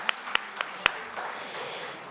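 Applause from the audience at a book launch ceremony, a few sharp claps at the start growing into a sustained, fairly distant crowd clapping that fills the room.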